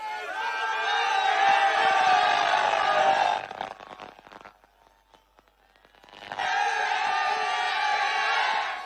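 A large crowd at an Arvind Kejriwal political rally shouts slogans and cheers loudly, a dense roar that drops away to near quiet midway for about three seconds before the massed shouting surges back just as loud.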